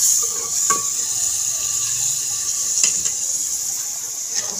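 Onions browning in a pan over an open wood fire, with a steady, fairly loud sizzle and crackle throughout and a few sharper pops along the way.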